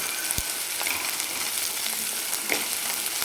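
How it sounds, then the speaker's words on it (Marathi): Garlic and ginger paste sautéing in hot oil, a steady close sizzle and crackle with a couple of faint stirring taps, no talking. "आठ ते दहा लसणाच्या पाकळ्या आणि अर्धा इंच आल्याचा तुकडा आहे बारीक वाटून घेतलेला तो टाकून घेऊ आपण त्याचा पण छान असा कच्चेपणाचा सुगंध जाईपर्यंत आपण याला परतून घेणार आहे"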